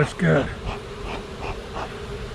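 Honey bees hum and buzz close around a hive frame during honey harvesting, a steady droning swarm with a brief louder burst at the start.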